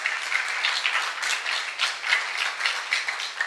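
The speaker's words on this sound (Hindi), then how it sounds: "क्यों ना एक तालियां बजाए प्रभु यीशु मसीह के लिए जोरदार तरीके से" A Hindi-speaking church congregation at a Father's Day service claps for Jesus Christ, a steady round of many hands with slight swells, moderately loud and without voices.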